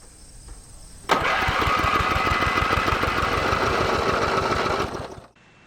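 A small riding-mower engine from a film scene suddenly cranks and sputters into a rough, pulsing run, chugging unevenly for about four seconds before dying away, loud and close, with no speech.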